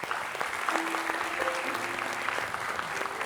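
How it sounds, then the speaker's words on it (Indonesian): Loud, dense applause from a studio audience at a live motivational talk show in Indonesia, a continuous wash of many hands clapping at once, with faint voices mixed in beneath it. "Kita berikan tepuk tangan."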